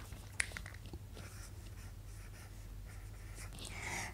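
Marker or chalk strokes on a board while a chemistry formula is written, soft scratchy scraping with a sharp tap near the start, close and quiet over a low steady hum.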